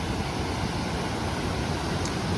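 Dense, constant rushing white water from the lower falls in the Cohutta Wilderness, a broad steady roar close by that never changes in level.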